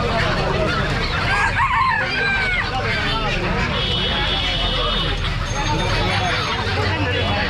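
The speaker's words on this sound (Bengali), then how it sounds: "এই দেখতে পাচ্ছেন বন্ধুরা দেশি মুরগি" Desi chickens for sale at a busy market cluck and squawk amid a dense crowd babble, with people talking nearby and traffic rumbling in the background.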